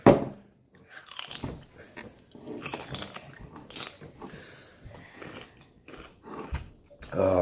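Crisp crunching and chewing of raw carrot and celery sticks, close to the mic, with irregular bites and mastication running for several seconds and no talking.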